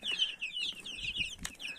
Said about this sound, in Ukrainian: Тут курчатка породи мехлинська зозуля, брама і декілька курчаток пітапінти